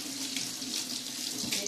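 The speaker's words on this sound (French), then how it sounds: "Donc je vais rincer la Clarisonic." A steady stream of tap water runs into a sink while a Clarisonic facial cleansing brush is rinsed under it, constant and close for the whole stretch with no talking.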